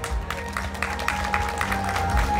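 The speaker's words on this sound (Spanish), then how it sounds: "Fuerte las palmas también para él." Wedding guests at a religious ceremony applaud in a brief burst of steady, fairly loud clapping from a gathered crowd, with a faint hum underneath.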